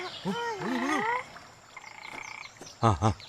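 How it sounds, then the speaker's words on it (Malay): A frog croaks in an animated cartoon scene, with two short, deep, close croaks near the end after higher tonal cries and quieter sounds. "Ada katak."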